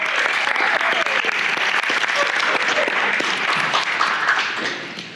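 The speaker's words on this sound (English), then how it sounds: "So a wee round of applause for Anne." Wedding guests applauding during the speeches, a full room of clapping that stays dense and loud, then thins and fades toward the end.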